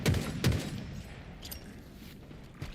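Two heavy, booming gunshots thud close together near the start, followed by softer scattered pops and a faint rumble of ongoing fire in the video game Halo Infinite.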